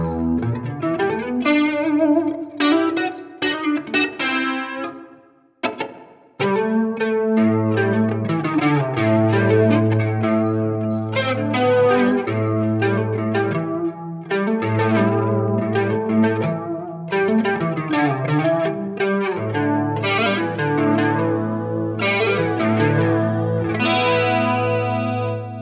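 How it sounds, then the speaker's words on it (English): Legacy Classic Collection Flying V electric guitar played through distortion with a chorus-like effect, sustained chords and riffs with a held low note underneath, loud and continuous apart from a brief pause near five seconds. "And you've heard a lot of the distortion already"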